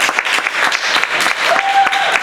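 A church congregation at a French-language praise service claps in acclamation, loud and close, the claps dense and uneven, with a brief voice or whistle-like tone sliding through partway.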